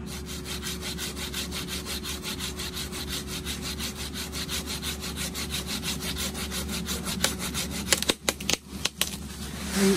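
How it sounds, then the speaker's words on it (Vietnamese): A pole saw cuts through an avocado tree branch with steady, rhythmic back-and-forth strokes, close and continuous, ending in a few sharp cracks as the wood gives. "Có cái cưa gậy dài kia thì công việc nó sẽ nhanh hơn."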